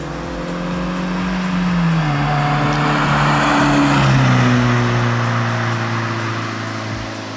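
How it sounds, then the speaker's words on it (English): A car driving past outdoors, its engine hum rising as it approaches, peaking in a broad whoosh, then falling away with a dropping pitch as it recedes. "we're going to show you a drive-by shot"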